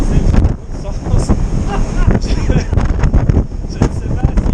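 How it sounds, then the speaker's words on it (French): Wind gusts buffet and roar loudly during a snowstorm in winter in Japan, mixed with a close voice speaking throughout. "il y a une tempête de neige à l'extérieur"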